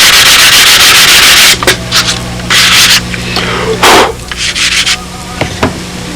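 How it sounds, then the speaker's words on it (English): Sandpaper swiped over the hatch of a wooden model Spitfire airplane, a loud continuous rasping rub for about a second and a half, then shorter bursts of scraping strokes that trail off, with no talking. "it's usually just a couple of swipes of sandpaper and you got it right back"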